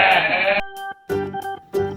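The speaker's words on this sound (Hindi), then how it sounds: "बकरा," A male goat on a farm gives a loud, close, drawn-out bleat, followed by two shorter wavering bleats after brief pauses, with no other sounds.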